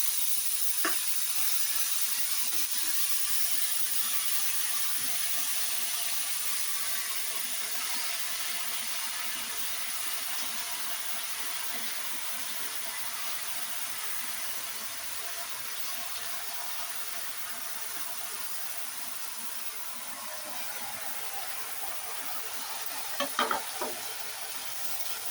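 Vegetables fry in oil in a pan, giving a steady, close sizzling hiss throughout, with a few brief scrapes of stirring near the end.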